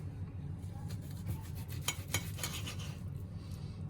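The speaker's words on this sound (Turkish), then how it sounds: "Etlerimi kesmeye hazırım." A knife slicing through cooked beef tenderloin steak on a plate or board, soft repeated scraping and rasping strokes with a few sharper clicks of metal, close and fairly quiet over a low background hum.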